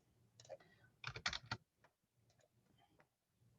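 Computer keys are typed and clicked in a quick burst of close, crisp taps in the middle, then a few scattered single clicks follow in a quiet room.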